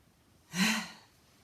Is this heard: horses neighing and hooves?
no